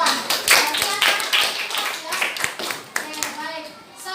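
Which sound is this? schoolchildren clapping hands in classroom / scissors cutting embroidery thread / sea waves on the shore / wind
schoolchildren clapping hands in classroom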